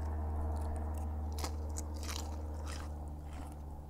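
Crunchy bites and chewing of an extra crispy Vietnamese bánh xèo crepe with pork belly and turmeric batter, close up, with crackling crunches over a low steady hum.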